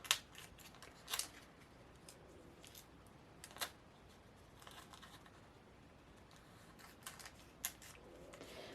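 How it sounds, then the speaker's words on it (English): Sharp scissor snips cutting through thin vinyl, coming in scattered bursts with quiet pauses between, close by and fairly soft, with no talking. "Now all I'm going to do is trim these so that they are all separate pieces."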